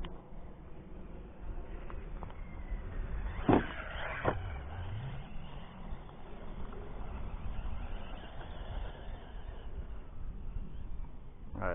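A Hobao Hyper VSe Pro RC car driving at part throttle, a steady whirring electric drone under wind noise, with a brief louder swoosh as it passes close by.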